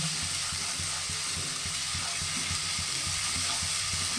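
Pumpkin peel paste frying in oil in a wok gives a steady, close, hissing sizzle that stays even and unbroken throughout, with a low bubbling underneath.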